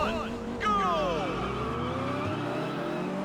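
Race cars in the Test Drive Unlimited video game roar off the line at the start of a rookie race, engines revving loudly with pitch sweeping as they accelerate, while someone talks over them.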